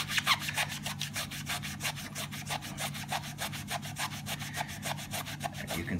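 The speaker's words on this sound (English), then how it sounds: "The microfiber sponge essentially rubs off the top layer of things," A microfiber sponge rubs along the chassis of a Bugaboo Bee stroller in quick, steady back-and-forth strokes, close up and continuous, with no talking.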